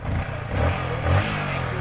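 Modified Bajaj Pulsar motorcycle engine on an offroad track, revving loudly up close in two short bursts over a rough idle.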